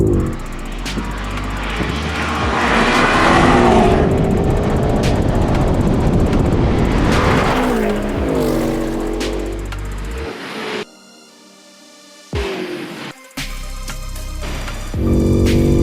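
A BMW M5 Competition and an Audi RS6 launch side by side in a drag race: a loud, sustained engine roar buffeted by wind noise that cuts off abruptly near the end, with brief rumbles after.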